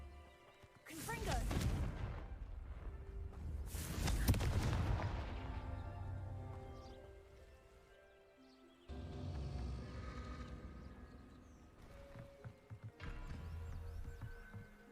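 Loud booming blasts from the Confringo fire-explosion spell in the video game Hogwarts Legacy, two heavy bursts early on followed by rumbling, crackling effects, with a voice calling the spell's name.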